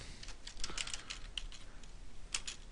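Light, quick keystrokes on a computer keyboard, a steady patter of close clicks for a few seconds with no talking.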